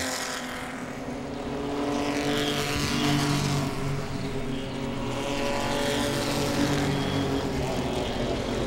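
Race cars battle through turns one and two at Langley Speedway in a Pro-Six event, a steady, loud roar of several engines droning on together without a break.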